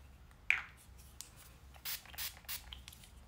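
Makeup setting spray gives a few quick, faint spritzes, short hissing bursts in a quiet room, one sharp puff followed by a small cluster of softer sprays.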